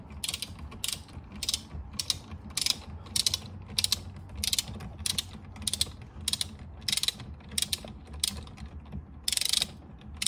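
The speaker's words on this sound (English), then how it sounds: "you want to take the bolt out first" Ratchet wrench loosening the steering wheel bolt on a 1984 Mercedes 380SL R107, a steady series of sharp, close clicks repeating at an even pace for about ten seconds with no talking.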